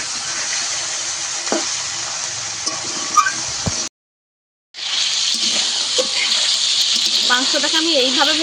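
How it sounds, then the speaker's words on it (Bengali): Chicken pieces fry in hot oil in a pan and are stirred and turned, a steady loud sizzle with scraping and clinks, broken by a brief silent gap before the sizzling resumes. "মাংসটাকে একটু উল্টে পাল্টে ভালো করে ভাজবো।"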